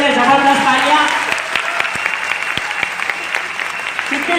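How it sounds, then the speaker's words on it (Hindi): A crowd applauds the organizers at a business training event, strong and continuous clapping with a voice over it at the start before it thins to scattered claps. "एक बार दिल से ताली हो जानी चाहिए इन लोग ने, जबरदस्त तालियां।"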